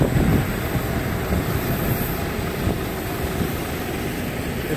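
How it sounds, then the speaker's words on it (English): An aircraft landing at an airport roars loudly and steadily as a broad, continuous engine and air rush that stays constant throughout, heard from nearby without any talking. "there's one aircraft landing"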